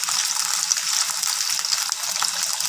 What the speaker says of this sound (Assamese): অলপ সময় মই আলুটো ফ্ৰাই কৰি ল'ম।